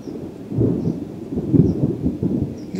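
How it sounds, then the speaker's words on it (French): Deep thunder rolls continuously in Provence, a heavy low rumble swelling and fading in waves, with no voices. "L'orage gronde."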